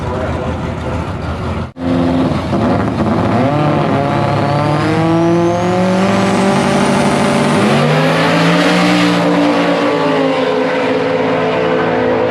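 A Mitsubishi 4G63 car engine revs and drones loudly in the pits at an event, its pitch sweeping up and down across several throttle changes, with people talking faintly underneath.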